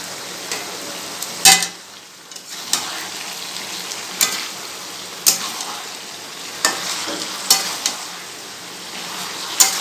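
Green chilli and poppy seed paste fries in a pan with a steady soft sizzle, punctuated by regular sharp clicks and scrapes of stirring, close and clear with no voices.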